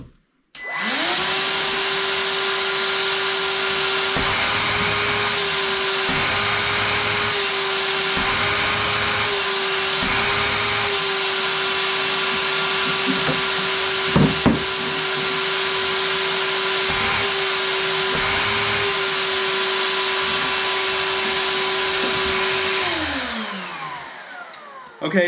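A Ryobi 18-volt wet vac runs under suction with a loud, steady, whining motor drone for over twenty seconds, then winds down as it switches off.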